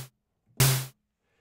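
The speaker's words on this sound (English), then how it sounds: "And you can hear the tuned element there behind the white noise element." A synthesized drum hit from the Zebra synth, a white-noise burst with a tuned low tone beneath it, sounds once loud and close and decays quickly, following the tail of a similar earlier hit.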